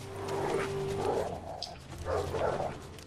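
A dog in The Witcher 3: Wild Hunt gives a few muffled barks in two short bursts over a low game ambience, moderately near.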